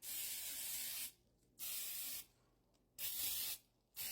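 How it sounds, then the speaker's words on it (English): Cooking spray is sprayed onto a baking pan for blueberry muffins in three close, hissing bursts of about a second each, separated by short quiet gaps. "spray your pans."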